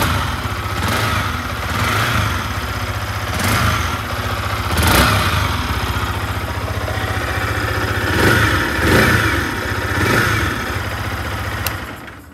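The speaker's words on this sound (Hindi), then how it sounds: "अब थोड़ा सा कर लेते हैं रेव" A Yamaha R15 V4 (2022) motorcycle engine revs repeatedly from a steady idle, with several sharp throttle blips rising and falling close by, with no talking.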